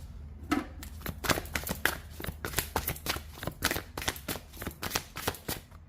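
Oracle cards are shuffled and drawn by hand in a close, quiet room, a string of soft riffling flicks and papery slaps in an irregular rhythm, with no clear talk.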